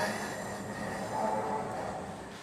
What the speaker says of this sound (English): Oh, there goes my train that I took.